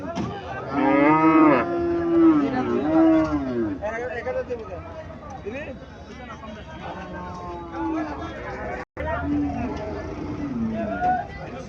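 Sahiwal cattle lowing at a Cumilla cow market, several long, loud moos rising and falling one after another while people talk and bargain close by.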